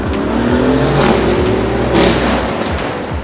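A car in Miami drives past close by, a loud, steady engine roar with revving swells that rise and fall as it goes by, with no talking.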